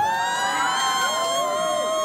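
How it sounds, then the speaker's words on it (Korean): A packed crowd of fans at a fan-signing event in Myeongdong, Seoul, cheers with high shrill screams and whoops, loud and sustained for a couple of seconds. "큰 박수 부탁드립니다."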